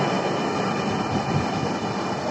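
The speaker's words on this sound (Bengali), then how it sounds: "এটাই হচ্ছে আমাদের ট্রেন অনেক লম্বা" A steady, loud rumble of a long metro train, continuous broadband roar with no pauses and no voices.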